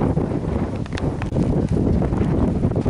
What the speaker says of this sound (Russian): Там ветрюга страшная.